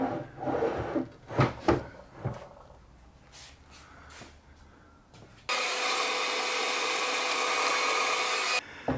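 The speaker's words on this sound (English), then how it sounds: "drill a hole on the other end" Power drill boring a hole through a thick wooden bench slab, preceded by knocks and handling of the wood, then a loud steady high whine that runs unbroken for about three seconds before cutting off.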